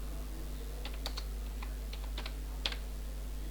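Scattered, light keystrokes on a computer keyboard tap out a search, irregular and fairly quiet over a constant low electrical hum.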